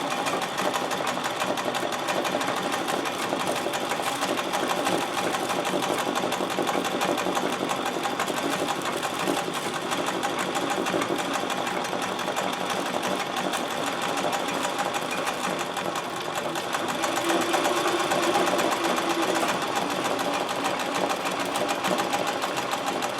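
A sewing machine running embroidery stitches nonstop, a loud, steady, dense mechanical whir and rapid needle chatter that holds evenly for over twenty seconds without voices.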